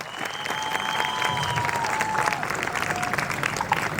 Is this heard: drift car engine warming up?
no